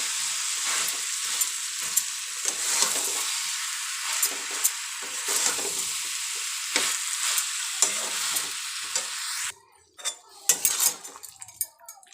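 Potato, cabbage and eggplant curry with spices being stirred and fried in a pan, with continuous sizzling and scraping of a utensil, near and steady, quieting briefly before a few more clinks and stirs.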